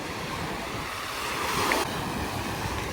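Sea waves wash steadily onto a sandy beach at Odessa, a continuous broadband surf roar with light wind buffeting the microphone and a slight swell in the middle.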